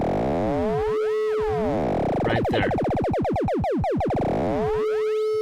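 A Joranalogue Generate 3 oscillator under linear FM from a Rubicon modulator produces a continuous synth tone with warbling, swooping sidebands that speed into rapid sweeps midway before settling back; a voice speaks briefly.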